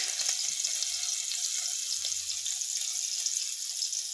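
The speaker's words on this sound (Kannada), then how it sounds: "ಈಗ ಆಯಿಲ್ ಬಿಸಿಯಾಗಿದೆ. ಶುಂಠಿ ಬೆಳ್ಳುಳ್ಳಿ ಪೇಸ್ಟ್ನ 1 ಸ್ಪೂನ್ ಹಾಕೋತಾ ಇದ್ದೀನಿ." A spoonful of ginger garlic paste sizzling in hot oil for veg fried rice, a steady bright crackling hiss that continues evenly throughout with faint low knocks.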